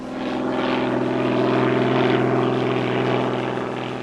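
Steady, loud drone of a World War II transport plane's propeller engines in flight, the aircraft heavily loaded with rice, a continuous throbbing hum with no voices.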